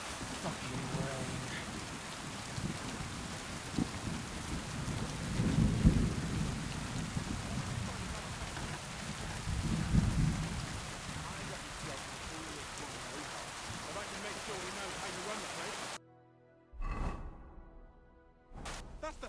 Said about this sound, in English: Ugh, fucking rain.